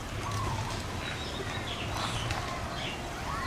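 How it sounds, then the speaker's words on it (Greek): Tropical myna birds call outdoors in faint, scattered chirps and whistles set against a constant wash of background noise and distant murmur. "Μάινες είναι αυτά."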